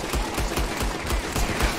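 Rapid automatic gunfire in modded Red Dead Redemption 2 rattles on without a break, a loud, dense stream of overlapping shots filling the whole moment with no voices.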